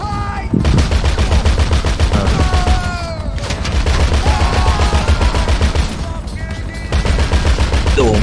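Sustained spray gunfire in GTA Online during the Doomsday Heist Act 2 rattles out as loud, rapid automatic bursts that barely pause, with voices talking over the shooting.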